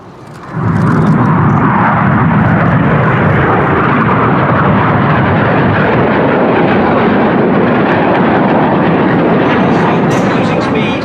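Red Arrows jets in a flying display at the Flying Legends 2017 airshow, a loud, sustained broadband roar that swells in within the first second and holds steady throughout, with faint voices mixed beneath.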